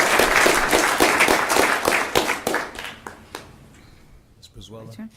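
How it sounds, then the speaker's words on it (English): An audience at a school board meeting claps for an award-winning dance team, a burst of applause that thins to scattered claps and fades before a voice starts speaking. "let's give them a round of applause"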